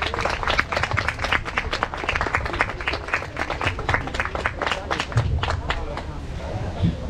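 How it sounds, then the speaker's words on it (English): Audience applauding an entertainment group after a traditional Fijian meke dance show, steady dense clapping from a nearby crowd with a murmur of voices underneath throughout. "could you give a big round of applause to the entertainment group?"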